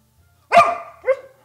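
A single dog gives one sharp, close bark followed by a shorter second bark, loud against an otherwise quiet indoor room.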